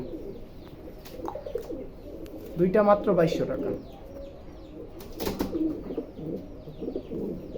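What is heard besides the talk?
male fancy pigeons cooing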